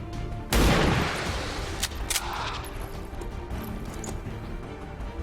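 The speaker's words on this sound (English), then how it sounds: "Let's try to go for a sniper shot." A single loud, sharp sniper rifle shot in the strategy game XCOM 2, a heavy crack followed by a decaying rumble and scattered faint impacts and ambient game noise.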